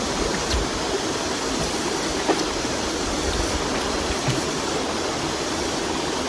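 River water rushes in a steady, dense wash during a group outing by the river, an unbroken loud flow with no voices over it.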